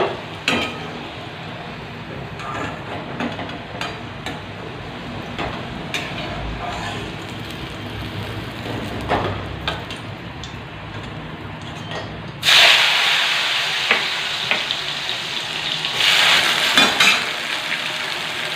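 Pointed gourd (potol) frying in a pan, a low crackling sizzle that swells sharply louder and hissier partway through and stays strong to the end.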